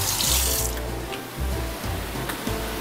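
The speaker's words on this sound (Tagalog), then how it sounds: "Hugas uli ng kamay." Tap water runs steadily into a kitchen sink during hand washing while seafood chow mein with fried tofu is being cooked. The gushing is loud, close and continuous, with faint handling sounds and no speech.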